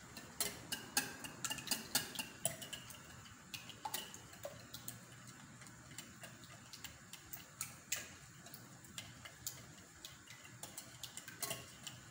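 Ingredients beaten in a bowl for a leek and goat cheese quiche, a quick irregular run of light metallic clicks and taps from the whisk against the bowl, close but faint.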